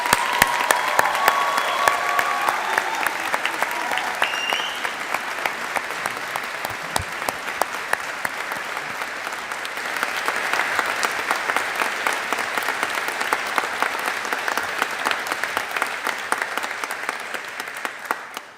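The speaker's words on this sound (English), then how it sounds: "let's take a moment to acknowledge and applaud the family and supporters for everything they've done to get you here" Steady, dense applause from a large graduation audience honouring families and supporters at a Strathclyde Institute of Pharmacy & Biomedical Sciences ceremony, sustained and even for the whole stretch with no pauses.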